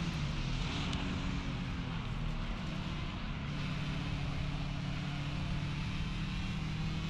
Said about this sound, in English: And listen to these cars.